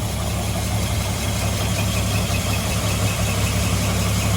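A 1954 Ford F100 pickup's engine idles steadily and fairly loud, a low, even rumble with a slight rhythmic pulse and no voices.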